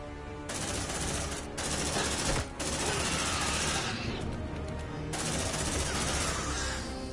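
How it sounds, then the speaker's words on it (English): Sentry turret in Aliens: Dark Descent opening up with sustained automatic fire, long dense bursts broken by a few short gaps, loud and steady throughout with no voices. "Sentry activated."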